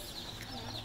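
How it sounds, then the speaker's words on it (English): Little yellow chicks cheeping in a group, thin high chirps layered over a noisy background with faint human chatter. "Look at these cute little chickies."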